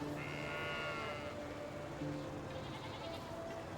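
A sheep bleats in the medieval farming game Medieval Dynasty, one long wavering call at the start over a quiet farmyard ambience, with faint tonal game sounds later and no talk.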